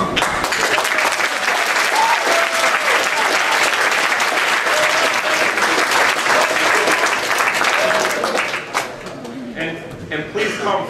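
Sustained loud applause from a large audience at a 2011 high school graduation ceremony in Plymouth, Michigan, a dense roar of clapping that thins into scattered claps near the end.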